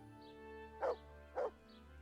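A dog in the medieval game Kingdom Come: Deliverance gives two deep, gruff barks about half a second apart, each short and booming over a low hum of game music and ambience.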